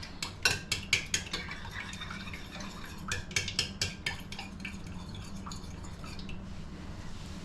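Spoon scraping and clinking against a bowl while corn muffin batter is stirred with melted butter, a run of close, uneven taps and scrapes that thin out toward the end.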